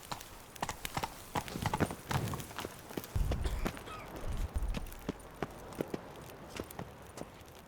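Geralt's horse Roach gallops in The Witcher 3: Blood and Wine, hooves clip-clopping in a brisk, steady rhythm, close and clear, with heavier thuds in the middle.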